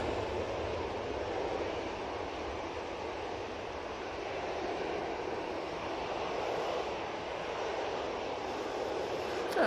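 A departing airliner bound for Barcelona gives off a steady, fairly distant broadband jet roar at Manchester Airport, holding level throughout without speech.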